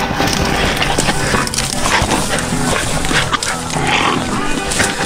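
Hunting dogs bay and bark at a cornered wild boar in dense, continuous commotion, with grunting and squealing mixed in and a voice calling to the dogs over the noise.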